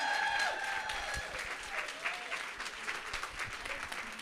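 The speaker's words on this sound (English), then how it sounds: "she deserves that standing ovation and those applause, right?" A brunch audience gives a standing ovation, loud sustained clapping with a few cheers and voices mixed in, strongest at the start and continuing steadily.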